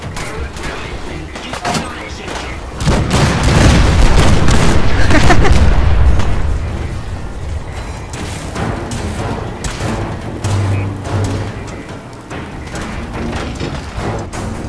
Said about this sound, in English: Soldier, man the cannons. Fire the cannons.